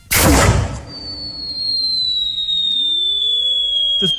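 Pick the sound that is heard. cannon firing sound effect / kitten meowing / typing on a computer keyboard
cannon firing sound effect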